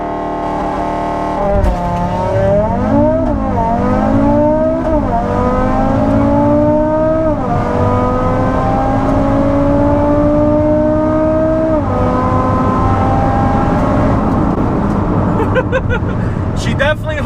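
A big-turbo Audi RS3 with traction control off launches hard in a drag run, its engine rising in pitch through several gear changes over many seconds, loud and close, with a little wheel spin and some talk around it.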